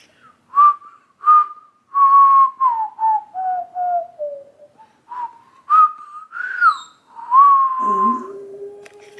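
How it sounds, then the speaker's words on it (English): A person whistles a wavering melodic tune in a series of short and sustained notes, some sliding up and down in pitch, close and alone, ending with a lower held tone. "Let's see if I can try and whistle."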